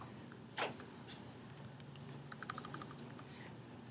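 Computer keyboard keys clicking during a spreadsheet tutorial, quiet and close: one sharp click, then a quick run of typed keystrokes over faint room hiss.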